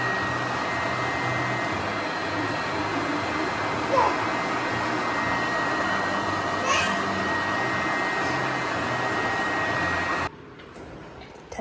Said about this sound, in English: I'm gonna at least sit on the hair dryer